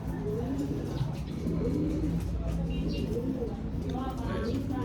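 Pigeons coo close by in a loft, soft repeated low warbling calls layered over steady background noise, with someone talking intermittently over the birds.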